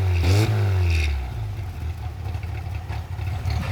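Engine of a Mk I VW Rabbit with an aggressive cam profile revs sharply at the start, then settles into a lumpy, uneven idle with clattery texture, close and loud, with no talking.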